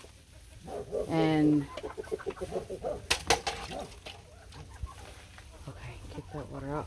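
A hen clucks loudly and repeatedly from her nest on a small snowy farm, close by, with a person talking intermittently nearby.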